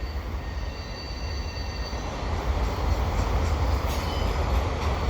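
A CN mixed freight train hauled by four engines rolls past at Ville St Pierre with auto racks, a loud, continuous rumble and clatter of wagons and wheels with faint squealing, no talk over it.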